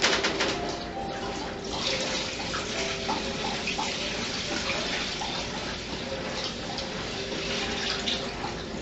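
Strained dandelion tea poured out in a steady, continuous watery rush, like liquid running from a tap into a basin, holding an even level throughout with no talk.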